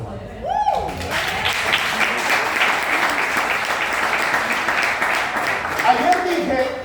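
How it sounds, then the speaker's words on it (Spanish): Church congregation applauding the Lord, a sustained burst of clapping from many hands lasting several seconds, with a voice speaking briefly at the start and again as it fades. "Un aplauso al Señor, hermano."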